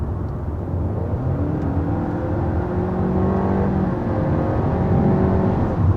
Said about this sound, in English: You probably noticed one of those improvements, which is a shift simulation.